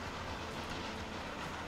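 Trains running in the Transport Fever video game, a steady rolling rumble of rail cars with faint clickety-clack, continuous and fairly close, with no talking.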